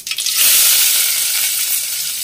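Mustard seeds and cumin crackling in hot oil for vegetable upma, a loud, close, continuous hiss of sizzling and popping that holds steady throughout.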